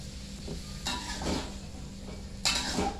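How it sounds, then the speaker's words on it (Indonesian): Stir-fried long beans being stirred in a pan, seasoned with salt and flavouring: a few scraping, clinking utensil strokes against the pan over a low steady sizzle, close and moderately loud, with no talking. "Ini saya aduk-aduk sebentar saja."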